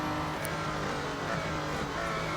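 Engine of a 650-horsepower Aston Martin DBR1-2 in the Real Racing 3 game, a continuous loud accelerating roar with a steady pitched whine, alone without speech.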